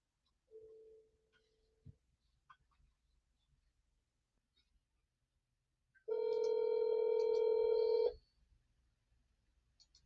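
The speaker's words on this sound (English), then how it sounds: "Hey Siri, call Tigger" An outgoing phone call placed by voice assistant: a short chime, then quiet, then one long buzzing ringback tone of about two seconds, heard through a phone speaker in a quiet room.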